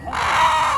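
A chicken at an outdoor bird market in Najran gives a short, loud, close cluck-like squawk lasting under a second, heard alone without talk.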